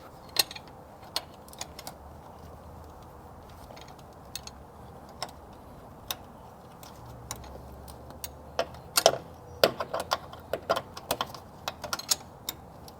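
A hand ratchet with a 12mm offset and long wobble extension clicks in short irregular bursts of sharp ticks while working on an Acura NSX oil pressure sending unit, quiet between bursts, with some faint handling noise.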